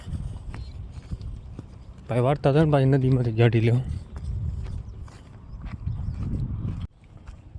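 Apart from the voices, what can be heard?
herd of buffaloes running, hoofbeats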